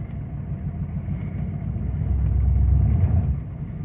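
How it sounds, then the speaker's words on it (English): A 1993 Chevrolet K3500 diesel truck revs and spins its tires, a steady low engine rumble that swells louder midway and eases toward the end, with no talk. "All right, we're spinning tires."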